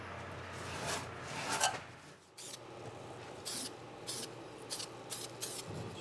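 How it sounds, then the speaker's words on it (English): Rough rubbing and scraping strokes scuff a car's metal engine bay before painting, repeated in short bursts, close and moderately quiet. "you can just use this stuff to scuff it up"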